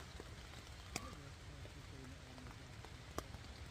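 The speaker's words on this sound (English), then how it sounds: "It's the overnight rainstorm." Rain patters steadily on a 3F UL Gear Taiji 2 tent in the woods overnight, a dense close hiss of drops with a couple of louder taps, with faint talking underneath.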